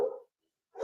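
A dog barks indoors twice, one short bark at the start and another at the end with a silent gap between, close and fairly loud, with no talk over it.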